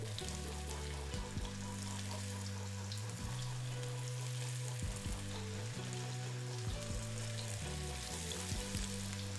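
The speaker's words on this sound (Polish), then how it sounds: "na mocno rozgrzanym tłuszczu obsmażamy po trochę" Veal pieces searing in strongly heated fat in a pan, a dense continuous sizzle heard close with a low steady hum beneath and occasional soft knocks, no voices.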